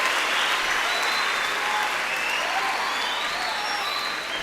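Sustained, loud round of applause from a large crowd welcoming guests at an education and leadership congress in Nairobi, dense and even throughout.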